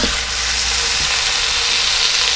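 A whole chicken seasoned with lemon pepper browns in an Instant Pot on saute mode, giving a loud, steady sizzle with a couple of faint thumps and no talk.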